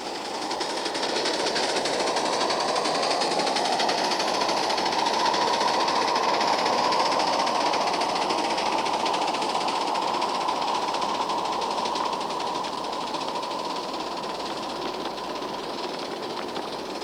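A model steam locomotive runs along its track with a steady rushing hiss and a rising then settling whine, close and continuous, with no voices.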